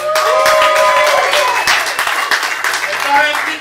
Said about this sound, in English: go ahead and keep those hands clapping